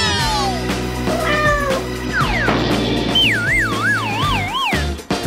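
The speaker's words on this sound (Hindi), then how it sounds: "क्या तुम एक बिल्ली बनने जा रही हो?" Loud cartoon-style cat meows rise and fall in a rapid sequence. A warbling, siren-like wavering tone follows, with busy background sound underneath.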